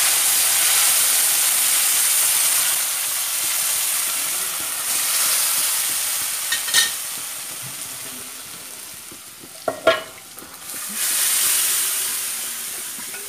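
Garlic frying in a hot pan of oil for a taro leaf curry gives a steady, soft sizzle and hiss throughout, with a few brief clinks and stirring sounds near the middle.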